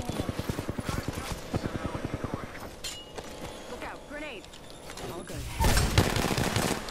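Gunfire crackles in a firefight in Apex Legends, where a charge rifle is in play. A fast, evenly spaced burst of shots comes first, followed by scattered whooshing effects and a loud crashing impact near the end.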